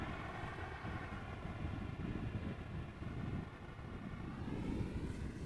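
A Boeing 747 landing at Amsterdam Schiphol airport is heard as a faint, distant, continuous low jet rumble with no sharp events, unseen above clouds.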